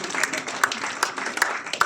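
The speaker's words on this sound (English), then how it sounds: "So round of applause" Applause from the audience at a book launch: short, even crowd clapping with regular louder bursts, with a voice faintly present underneath.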